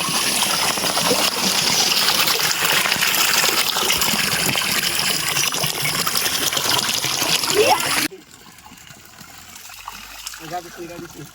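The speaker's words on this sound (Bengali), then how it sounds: "খুব সুন্দর পানি লোড হচ্ছে" Water gushes steadily from a pipe into a newly built backyard swimming pool, a loud broadband rush that fills the first eight seconds and then cuts off, leaving quieter ambient sound with faint voices.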